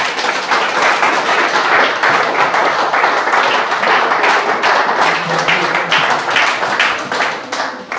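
A church congregation applauding in acclamation, dense sustained clapping from many hands filling the room at steady loudness for the whole stretch, with some voices mixed beneath.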